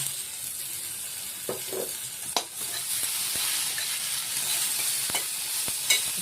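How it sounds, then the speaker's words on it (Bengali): Ginger, garlic and green chilli paste fries in a pan for chana masala, a continuous close sizzle broken by a few sharp spatula knocks and stirring scrapes. "দিয়ে এক থেকে দু মিনিটের মতন আমরা ভেজে নেবো যাতে আদা রসুন আর কাঁচা লঙ্কার কাঁচা গন্ধটা না থাকে"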